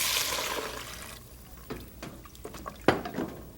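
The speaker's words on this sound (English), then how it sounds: "Now we have to add our water." Water poured into a pan of frying fenugreek seeds, a rushing hiss that fades after a second, followed by several soft clinks and clatters of a pan and utensil.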